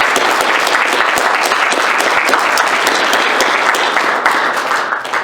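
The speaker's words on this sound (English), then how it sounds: "So tonight, I'd like you to honor them by clapping with me" A reunion crowd at the Interlake Mennonite Collegiate gathering gives a couple a loud, dense round of applause that holds steady and eases off only at the very end.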